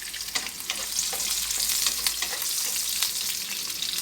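Garlic sautés in a hot pan for a pakbet vegetable dish, giving a dense, continuous sizzle that holds steady with no voices over it.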